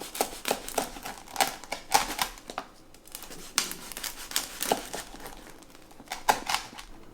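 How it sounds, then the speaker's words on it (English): A knife saws through a loaf of French bread, producing crisp crackling crunches of crust in irregular bursts, close and fairly quiet, with no talk. "we'll just cut 2 slices of this nice French bread"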